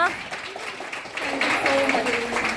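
Audience applause at a Marathi Haldi-Kumkum and Makar Sankranti celebration in Japan, a steady broadband patter of many hands that swells after the first second and continues while a voice speaks over it.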